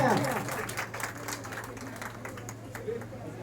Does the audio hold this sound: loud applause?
yes